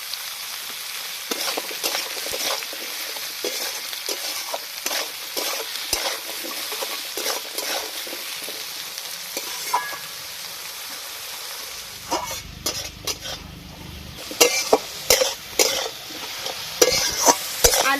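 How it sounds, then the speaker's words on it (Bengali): Onion and small potato pieces fry in a pan, with salt added. A continuous sizzle is broken by frequent scraping stirs, and louder clattering strokes come near the end. "ভালো করে ভেজে নিয়েছি।"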